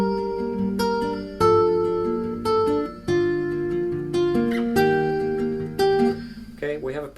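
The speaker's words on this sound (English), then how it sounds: "Let's talk about the right hand and the finger picking pattern." Fingerpicked acoustic guitar playing a repeating rhythmic pattern through the chords of a song, plucked notes ringing over bass tones, close and clear, with a faint squeak of fingers sliding at the end.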